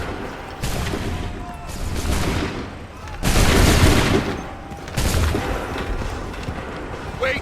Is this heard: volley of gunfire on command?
yes